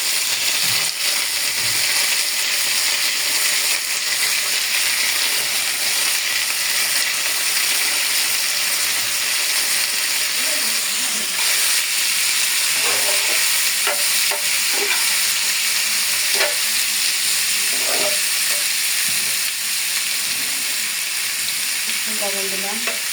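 Panch phoron seeds and dried red chillies fry in hot oil for a mango chutney, giving a steady close sizzle over about twenty seconds, joined in the later half by clinks and scrapes of a spoon stirring the pan.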